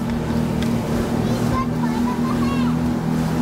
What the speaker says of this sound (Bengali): এই আমরা এখন স্পিড বোটে, এটা দিয়ে হোটেলে যাব।